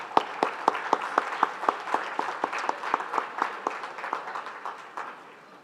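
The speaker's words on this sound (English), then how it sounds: "One more time, round of applause for the caregivers." An event audience applauds caregivers, a steady round of clapping with distinct rhythmic nearby claps on top of the crowd wash, gradually fading out.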